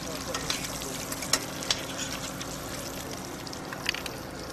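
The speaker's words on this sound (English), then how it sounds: "we chuck our langoustines in. We fry those for just a couple of moments." Langoustines fry in a hot pan with a constant close sizzle, with occasional sharper pops and clinks of stirring over the crackle.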